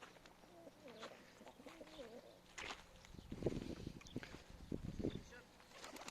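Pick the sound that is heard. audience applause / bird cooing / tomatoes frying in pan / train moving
bird cooing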